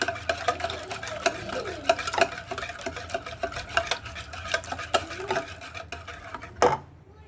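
A spoon stirs an orange juice and milk pudding mixture through a sieve into a caramel-lined mold, giving a quick run of close scraping, tapping strokes with a louder clack near the end before it stops.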